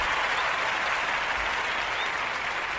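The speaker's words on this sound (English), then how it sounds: "I got to give y'all a round of applause" Sustained applause from a basketball crowd after a New Orleans Pelicans game, a dense, steady wash of clapping holding at a constant level throughout with no voices over it.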